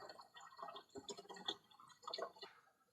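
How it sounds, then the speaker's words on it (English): Coolant being poured into the cooling system of a 2018 Chevrolet during a vacuum fill, close up, with a steady trickle, splashing and gurgling drips rising and falling throughout. "I'm going to dump some more fluid in here."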